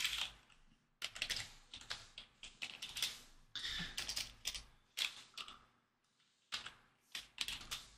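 Close, brisk typing on a computer keyboard while entering text into a SharePoint and Power Apps form, in rapid bursts of keystrokes separated by short pauses, with no talking.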